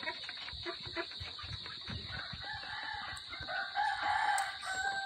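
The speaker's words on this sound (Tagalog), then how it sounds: "Rhode Island red chicken, 4 months old, soon to be breeder." Rhode Island Red chickens, four-month-old young birds in a small backyard coop, crowing and clucking steadily at close range, with a louder rooster crow rising near the end over constant background noise.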